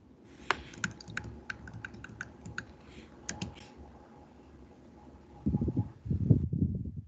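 Keystrokes clatter on a computer keyboard at an office workstation, irregular clicks in short bursts over a faint background hum, then stopping as low rumbling noises close out the end.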